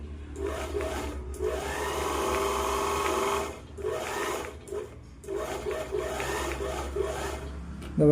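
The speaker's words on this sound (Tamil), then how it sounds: "இதுதான் மக்களே ஃபோல்டபிள் ஓவர்லாக்" A foldable overlock sewing machine stitches and trims a frayed fabric edge, its steady mechanical whirring running in three bursts separated by short pauses, close and fairly loud.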